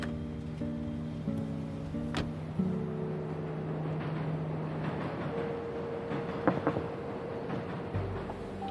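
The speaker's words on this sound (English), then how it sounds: "train's here." A train pulls in at a station, sustained horn-like tones and rumbling with clanks and squeals as it arrives, fairly loud and close with no speech over it.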